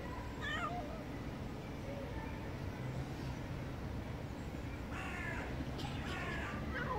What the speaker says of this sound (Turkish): Mırlama ses duyuyorum.